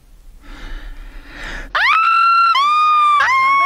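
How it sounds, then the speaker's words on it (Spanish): A man gives a long, loud primal scream, rising sharply out of rough breathing and background noise, then holding in a piercing, sustained yell with a brief break before continuing. "¿Alguna vez te han dado ganas de dar un grito primal?"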